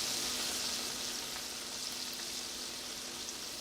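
Chicken browning in a pan with salt and pepper, a steady, soft crackling sizzle that continues evenly and closely throughout.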